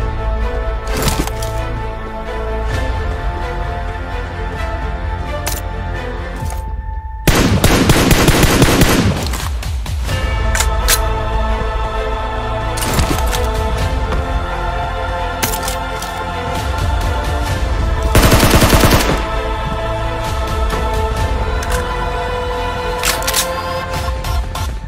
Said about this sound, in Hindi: गन गन गन गन, यहाँ पे स्कारिल थी ना